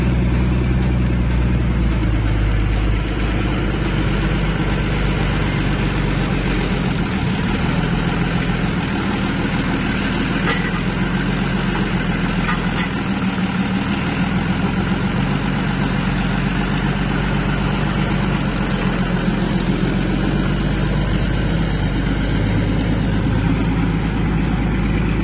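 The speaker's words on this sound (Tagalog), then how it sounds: "Ito lang yung truck na taga-hila ng bangka dito" Old boat-towing and boat-lifting truck fitted with a front cable winch, its engine idling steadily and loud with a deep low rumble throughout, no talk heard.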